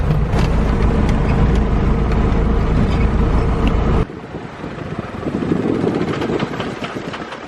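A Piper Cherokee 180 engine runs loudly and steadily up close with wind rush, then drops to a lower, rougher drone that swells slightly before the end.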